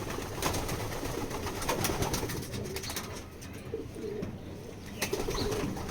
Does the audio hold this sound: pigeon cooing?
yes